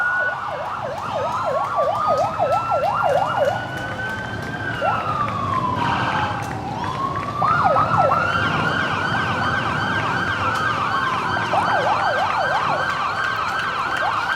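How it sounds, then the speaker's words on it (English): Emergency vehicle sirens open the 2016 University of Florida Homecoming Parade on University Avenue, loud overlapping wails and rapid yelps sweeping up and down, close by and continuous. "right now we are starting to hear those sirens."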